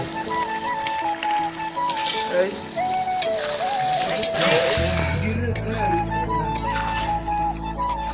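Loud close sizzling of country chicken frying in a pan, with stirring scrapes, while a person talks over it.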